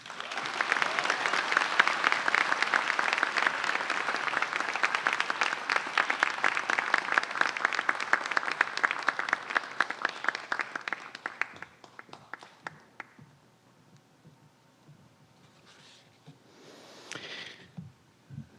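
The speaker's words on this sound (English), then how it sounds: "Can we please have another round of applause for Landy?" An audience at a new student convocation breaks into sustained applause, loud and dense for about ten seconds before thinning into scattered claps and fading, followed by a brief voice afterward.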